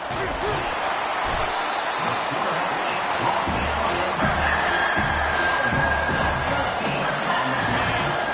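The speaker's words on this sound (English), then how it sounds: "This crowd bringing the energy and noise early." A dense, loud roar of a large college football stadium crowd, steady throughout with whoops and scattered shouts rising out of it, voices talking underneath.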